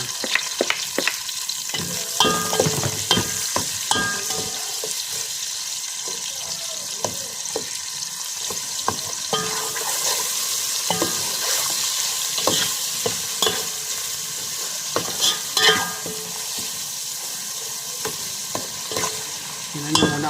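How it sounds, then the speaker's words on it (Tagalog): Onions sautéing in a pan for a mung bean and spinach dish, with steady frying sizzle, repeated stirring scrapes and clinks throughout, and faint water running at moments, recorded close with no talk. "nilalagyan natin sibuyas gisa na ng sibuyas"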